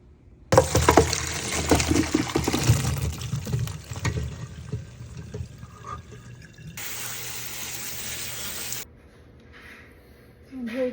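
Boiled ham hock is rinsed under running water, a loud close rush and splash that eases, surges again, then stops abruptly.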